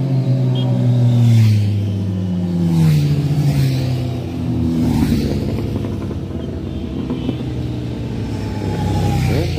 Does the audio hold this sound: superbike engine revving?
yes